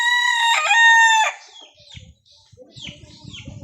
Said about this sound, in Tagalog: Ang tilaok nito ay ano, malaki.